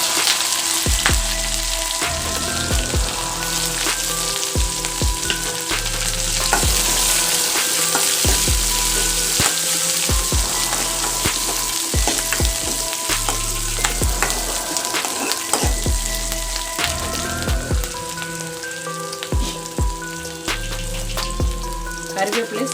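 Ginger, green chilli and onion sizzle in hot oil for a tamarind kuzhambu, a steady close crackle with sharp spattering pops and occasional stirring clatter throughout.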